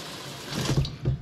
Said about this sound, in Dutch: Nu de bus goed vullen met ijskoud water.